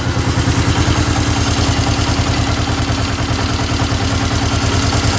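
A cheap used motorcycle with the choke on idles very low, close and loud, its steady fast putter of firing pulses continuing evenly throughout with no voices.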